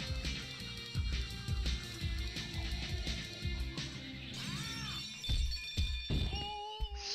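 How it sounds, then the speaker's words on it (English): Glass shatters in the video game Ty the Tasmanian Tiger, a brief crash and tinkle set against bouncy game music with rhythmic beats that carries on throughout. "So it broke the glass from the back, but not from the front."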